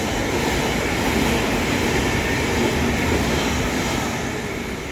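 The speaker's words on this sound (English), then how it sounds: "More trains." Trains pass through a railway station, including British Rail Class 450 and 458 electric units, giving a loud, steady rumble of wheels and motors that holds for the whole stretch with no break and no talk.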